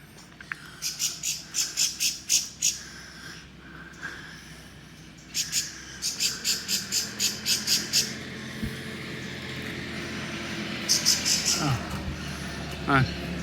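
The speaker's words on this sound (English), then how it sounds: "Let's go look at this little bird." A small bird calls from a street in Argentina, giving repeated bursts of rapid, high chirps in several clusters over steady outdoor background noise, with faint talk beneath.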